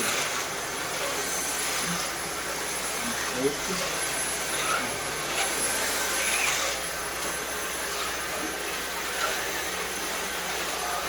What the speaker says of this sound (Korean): 청소기를 돌리는데도